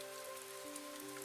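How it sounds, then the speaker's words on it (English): Soft, steady rain falls outside at night, a faint even patter with no voices. "Outside, the rain kept falling."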